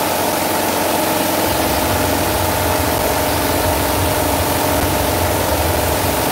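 A Karcher HDS 650 hot water pressure cleaner running in hot water mode gives a loud, steady, unbroken mechanical drone with broad hiss, close by and without speech throughout.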